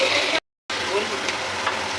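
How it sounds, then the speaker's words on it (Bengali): Bay leaves dropped into hot oil for tempering, a dense close sizzle that cuts out briefly and resumes just as strong, with no talking. "তেলটা গরম হয়ে গেছে, এবার তেজপাতা ফোড়ন দেবো"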